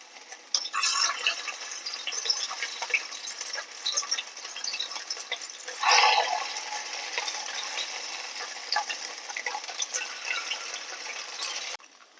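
Papaya snack balls fry in hot coconut oil with a steady, fairly faint sizzle and crackle, plus a louder burst of bubbling as more balls drop into the pan.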